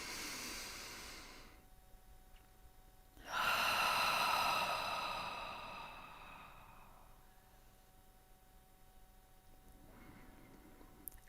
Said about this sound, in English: let's just take one moment before we step into the music to just take one deep breath